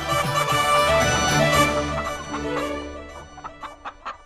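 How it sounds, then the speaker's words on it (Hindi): A hen clucks and calls in a harmonic, tonal voice, the sound trailing into a series of short, separate clucks near the end, close and fairly loud with no talking. "काजू देखते ही वासुदेव की मुर्गी भागते हुए आएगी।"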